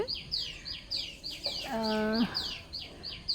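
A small sparrow gives a quick series of high, thin chirps, repeated rhythmically nearby, with a lower, harmonic call breaking in briefly midway.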